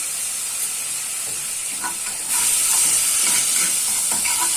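Ingredients with lemon juice are stirred together in a pan, a steady frying hiss with soft scraping stirs, growing louder and brighter partway through.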